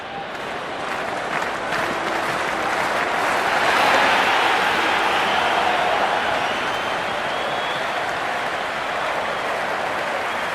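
A large cricket stadium crowd at an IPL match between Bengaluru and Gujarat cheers and applauds continuously, a loud, dense roar that swells in the middle and holds steady for about ten seconds.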